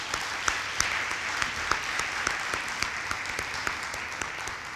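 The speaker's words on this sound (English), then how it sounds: "please give our firefighters also a round of applause for the work they're doing." A crowd claps steadily for firefighters at a city event, a dense patter of many hands with a few sharper claps standing out, continuous throughout.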